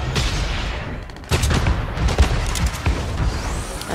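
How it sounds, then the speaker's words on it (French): Sniper rifle fire in the Fortnite video game aimed at a robot, a few sharp booming shots over dense battle noise and rumbling effects, loud and close. "On va essayer de sniper le robot."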